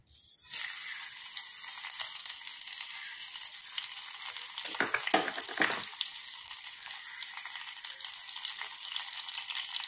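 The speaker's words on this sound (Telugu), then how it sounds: "దీని తాలింపు కోసం అండి ఆవాలు, జీలకర్ర, ఎల్లుల్లిపాయ" Mustard seeds, cumin and garlic tempering in hot oil for mango dal, a sudden close sizzle that holds steady with a crackling surge midway, no voices.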